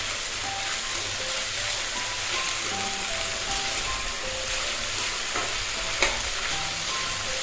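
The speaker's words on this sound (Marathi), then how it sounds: "एक 2 ते 3 मिनिटं याला आपण परतून घेऊया।" Green beans sautéing in a pan for a dry sabzi, a steady close sizzle with scraping stir strokes throughout and a sharper clack near the end, no talking.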